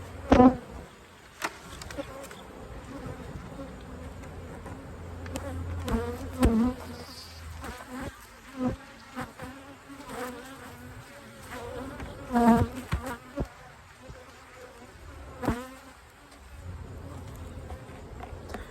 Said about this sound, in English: I know there's a ton of bees in there, that's for sure